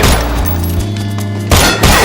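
Gunfire in a film scene, a sustained fusillade of shots with heavy booming low thuds, loud and dense throughout, with a renewed burst of blasts near the end.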